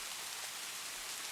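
Steady, even hiss of cartoon rain pouring onto a sack of potatoes, a dense unbroken wash of drops with no talk over it.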